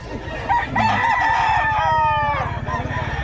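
A Pumpkin hatch gamefowl rooster crows once, a loud, close, drawn-out call over steady background noise at a bird market.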